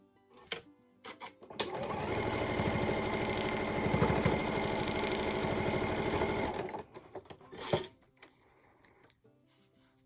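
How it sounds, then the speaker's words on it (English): A sewing machine stitches the top of a small fabric needle book in one steady run of about five seconds, with quieter handling clicks before and after. "now we're just going to stitch on the top"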